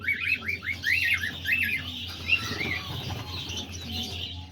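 Several cockatoos squawk and chirp, with a rapid run of shrill calls at first, then ongoing bird chatter in the background.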